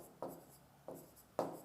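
Three separate strokes of chalk or marker on a board, spaced about half a second apart, each a short scratchy rub, close and fairly quiet with no talking.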